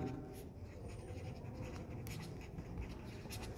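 A pen writes on paper while a capacitor charging and discharging experiment is being set up, a soft, steady scratching that runs the whole time, close and faint, with no talking.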